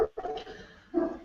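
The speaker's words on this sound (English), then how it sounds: "sorry for the dog" A dog at home barks twice in quick succession at someone at the door, muffled and moderately close.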